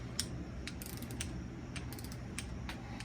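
An inch-pound torque wrench tightens the bolts on a Ford Racing T5 transmission bearing retainer of a Fox-body Mustang. Quiet, close ratcheting clicks come in an irregular series over a steady low background hum.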